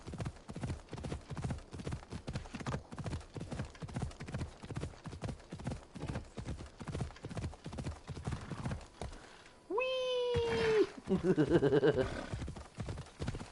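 Horse hooves clip-clop in a steady galloping rhythm in Assassin's Creed Odyssey, loud and close, then give way to a sharp whinny near the end. A player briefly exclaims over the riding.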